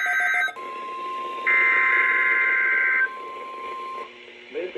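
A NOAA weather radio warning alarm test plays: a loud, steady, sustained electronic tone held for several seconds with a brief higher tone layered in the middle, broadcast over the radio before a voice begins.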